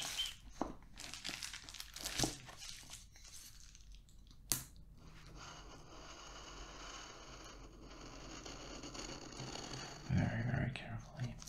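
A knife slices and peels plastic shrink wrap off a boxed card game, soft crinkling and tearing close up, with a sharp snap midway and a louder rustle near the end, under quiet whispering.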